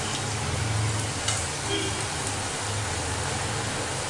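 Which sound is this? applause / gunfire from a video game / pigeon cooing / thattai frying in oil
thattai frying in oil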